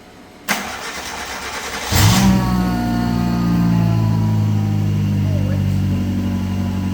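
A supercharged Hyundai Getz cranks and fires up after a click, then settles into a loud, steady idle close by with a slight rev; voices are faintly present at the start.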